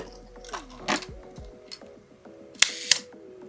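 Canon Canonet QL17 rangefinder film camera being cranked and fired after cleaning and oiling, close mechanical ratcheting and whirring followed by two sharp shutter clicks near the end.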